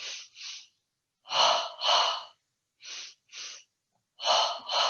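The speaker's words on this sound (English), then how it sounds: "So you'd still keep a slow breath as much as you can with the double breath." Yoga-style double breathing, paired sharp inhalations or exhalations through the nose repeated in clusters of two, close and loud with short silent pauses between pairs.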